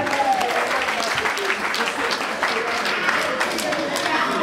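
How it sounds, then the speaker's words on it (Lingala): Audience applause at a religious wedding celebration, a sustained burst of many hands clapping with an announcer's voice running over it. "Sous vos applaudissements de monsieur."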